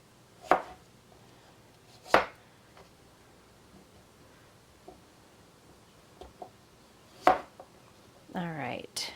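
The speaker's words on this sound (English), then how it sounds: "I'll give you an idea here of how big I am chopping these." Zucchini being chopped on a cutting board while preparing pineapple zucchini for canning, with a few sharp, well-spaced knife strikes close by and a brief burst of speech near the end.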